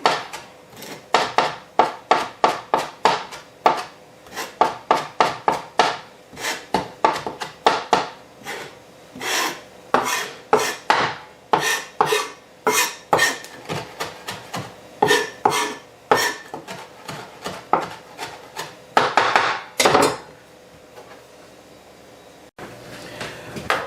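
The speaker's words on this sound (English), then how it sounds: "I'm just going to go ahead and mince it up a bit" A knife minces fresh thyme on a cutting board in quick, sharp, evenly spaced taps that run for a long stretch. The chopping is close and clear, with no voices.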